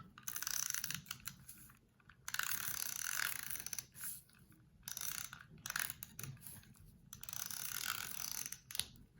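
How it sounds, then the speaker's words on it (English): A craft punch cuts out a paper shape, sounding as close, loud bursts of mechanical ratcheting and clicking separated by short pauses, with no talking. "And then we're just going to punch that out."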